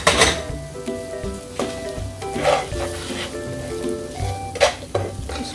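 Ginger sizzles in a hot pan for Hindi-style black pepper chicken, a steady close frying hiss broken by a few sharp stirring clatters, with background music underneath and no talking.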